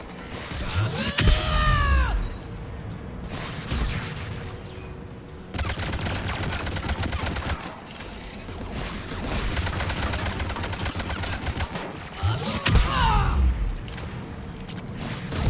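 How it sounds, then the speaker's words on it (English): Anti-aircraft gun fire during video game combat: repeated booming blasts with sweeping whine-like tails, loud, separated by stretches of rattling gunfire and rumble. "AA guns ahead"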